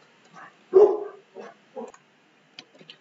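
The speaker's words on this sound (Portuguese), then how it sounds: "Pronto, eles pararam de latir." A few separate dog barks and yips, one loud bark followed by several softer ones, with quiet gaps between them.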